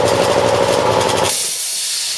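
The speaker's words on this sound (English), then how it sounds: "So I've turned my compressor on. As you can see, it's going." An air compressor charging its tank gives a loud, rapid pulsing motor chatter up close, then switches abruptly to a steady hiss of air for the last second.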